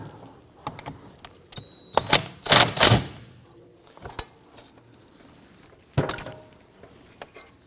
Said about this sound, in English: I'm going to get loosen and remove this bolt here.